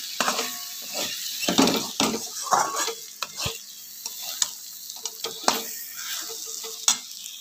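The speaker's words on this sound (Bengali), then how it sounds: "এবার চালটাকে দিয়ে আবার ভালো করে কষাতে হবে" Rice is stirred and fried in a pan for a muri ghonto dish, with repeated scraping and rustling strokes of the spatula over a light sizzle, close and fairly loud.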